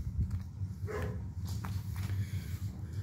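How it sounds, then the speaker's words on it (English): Dogs bark somewhere in the distance, faint and scattered, beneath a steady low background hum. "if y'all hear the dogs barking, they're all going bonkers out there right now"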